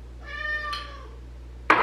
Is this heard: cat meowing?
yes